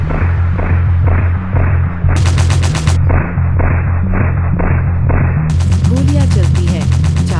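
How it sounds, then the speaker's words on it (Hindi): Loud, dense bursts of gunfire mixed with booming impacts and music, continuous over the whole stretch, with no clear gaps between shots. "गोलियां चलती है"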